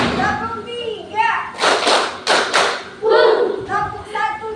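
A group of pupils claps in time during a classroom counting game in Indonesia, three loud close claps in quick succession set between chanted teacher speech.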